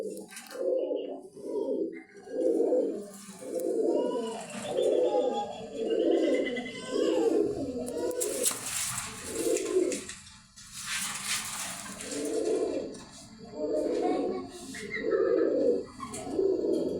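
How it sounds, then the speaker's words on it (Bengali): Raj Golla pigeons coo in a steady repeating series of soft, throaty, rolling calls, close by, with faint chirps and brief noisy rustles between the coos. "এই যে জোড়া আছে রাজগোল্লা কবুতর"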